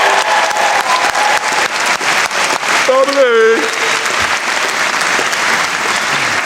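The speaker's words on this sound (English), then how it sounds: "Can we big them up with a mighty round of applause" Audience applause at a university graduation ceremony for the Faculty of Art, Design and Media fills the hall with dense, loud, sustained clapping, while a voice speaks over it briefly and a whoop rises near the middle.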